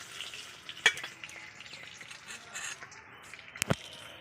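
A bay leaf fries in hot oil left from crisp-fried fish heads, with a steady soft sizzle and a few sharp crackles and pops, close by.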